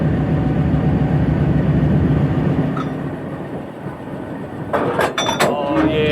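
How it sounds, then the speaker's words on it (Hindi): A locomotive creeps slowly toward a train to couple, its heavy engine rumbling low and steady, followed near the end by a cluster of sharp metallic clanks. "स्लो लोकोमोटिव आ रहा है।"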